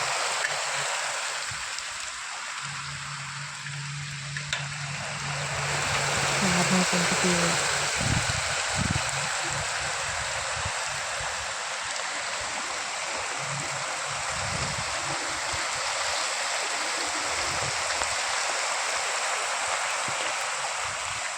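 Heavy rain pours down in Karmala taluka, Maharashtra, as a constant loud hiss, with a few low voices murmuring faintly beneath it near the beginning.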